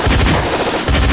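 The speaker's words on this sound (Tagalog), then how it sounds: "Keep on firing!" Machine gun fire during a battle scene, a loud rapid burst of shots close by with a brief gap before it resumes.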